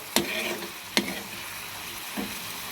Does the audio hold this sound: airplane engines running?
no